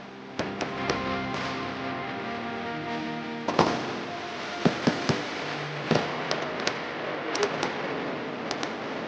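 A large fireworks display at Chennai's Island Grounds sets off sharp cracks and bangs at an irregular pace, some alone and some in quick bursts, over a steady crowd murmur and music-like tonal hum.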